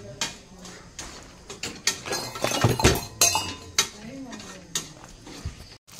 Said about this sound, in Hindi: तब तक मैं यहाँ पे टमाटर काटूंगी